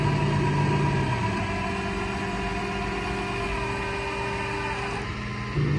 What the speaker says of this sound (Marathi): आणि आता तो परत गाडी पूल करणार आहे पुढे